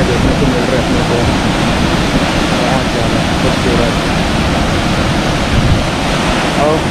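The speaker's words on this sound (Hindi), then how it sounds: "ठीक लग रहा है, बहुत अच्छा वाटरफॉल है, ज़बरदस्त है" Tamra Ghoomar waterfall in Bastar, Chhattisgarh roars as a loud, steady broadband rush throughout, with a voice speaking over the constant water noise.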